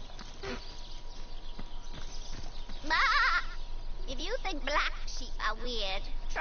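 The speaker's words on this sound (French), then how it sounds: "Un mouton-garou. Mouton-garou." A were-sheep bleating in the video game Divinity: Original Sin, a wavering bleat followed by several more quavering cries, loud and up front, with someone speaking French over parts of it.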